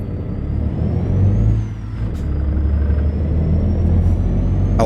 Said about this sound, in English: It's a 600 horsepower Cummins X15 engine.